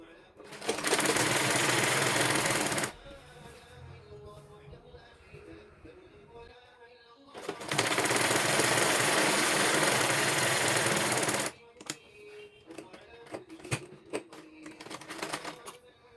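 An electric sewing machine stitching a folded one-inch petticoat hem runs in two loud, fast bursts of several seconds each, separated by quieter pauses with someone speaking and small handling noises.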